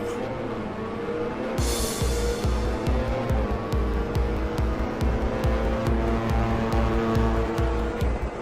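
Race cars in Ridge Racer launch off the start line together, engines roaring loud and continuous with a brief burst of tire squeal near the beginning and a steady rhythmic pulsing under the revving.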